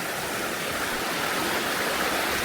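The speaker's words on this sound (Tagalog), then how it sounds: "Yung tunog ng batis." Flowing stream in Japan, a steady, full rush of water with constant splashing that stays even and close for the whole stretch.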